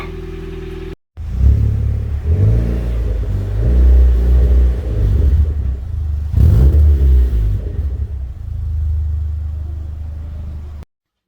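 A car engine revs hard several times through a loud, not fully sorted exhaust, rising and falling in bursts, then settles into a steady rumbling idle before cutting off.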